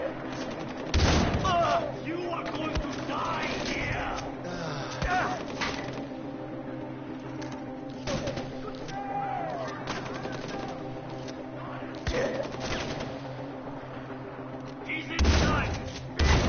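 Gunfire in Far Cry 4, including shotgun blasts, rings out as several sharp reports spread across the stretch over a steady background of game ambience, with louder bursts near the start and end.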